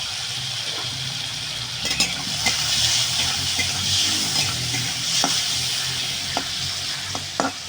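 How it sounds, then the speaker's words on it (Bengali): Prawns seasoned with salt and turmeric fry in oil, hissing steadily in the pan while a utensil stirs and taps now and then. The sizzle stays close and moderately loud with no talking. "এই দেখো চিংড়ি মাছটা আমার ভাজা হয়ে গেছে একদম"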